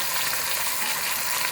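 Beef, boneless and bone-in pieces, sizzles steadily in a pan with garlic-ginger paste while browning for nihari; a dense, even hiss of frying with no voices.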